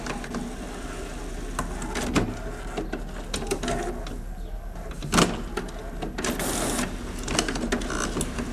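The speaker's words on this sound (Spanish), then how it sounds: "En la limpieza de segundo nivel, la estación hace un trabajo más intenso de limpieza y carga de tinta." An HP 7110 printer runs a second-level printhead cleaning cycle, with mechanical whirring, clicks and sliding carriage movements rising and falling over several seconds, and one sharp clack partway through.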